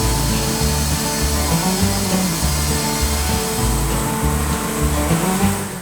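A loud, steady sawmill blade grinds through timber, its low droning hum pulsing in a regular rhythm, with no talking.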